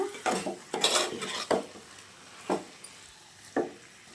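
Chicken pieces stirred in a pan for chicken gravy, a series of distinct scraping and knocking strokes of a spoon against the pan over a light sizzle, close by, spaced irregularly with quiet gaps.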